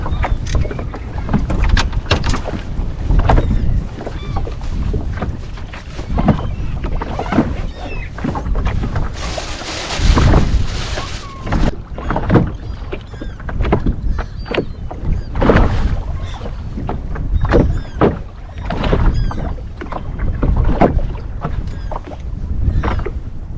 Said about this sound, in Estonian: Tuul läks päris kõvaks